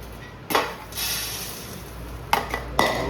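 Utensils clink and scrape against a metal platter as food is mixed, with a few sharp metallic knocks standing out from a steady low kitchen background, and no talk.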